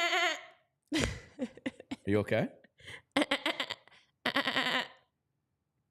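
A person imitates a sheep bleat with wavering, quavering vocal cries among other voices in a casual chat, followed by a short question from another speaker; the bleats are close and loud between pauses.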